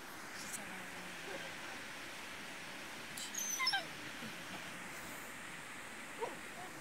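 Dogs on a beach, one of them digging a hole, with a faint whimper and a brief yip, low under steady surf and wind noise. A few short bursts of sound come near the middle.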